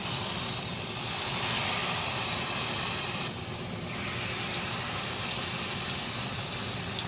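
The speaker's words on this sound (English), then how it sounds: "the pan should definitely be hot enough to where they're sizzling" Constant loud hiss of chicken thighs sizzling in a hot pan, broad and steady, dipping slightly partway through and then continuing evenly.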